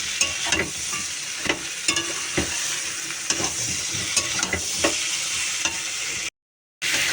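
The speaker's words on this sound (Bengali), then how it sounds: "এক হাতে ফোন ধরেছি এখন কড়াই টড়াই বেঁকে চলে যাচ্ছে নাড়তে নাড়তে" Curry being stirred and scraped in a kadai, with repeated spoon strokes over a steady sizzle of hot oil, close and fairly loud, cutting out briefly near the end.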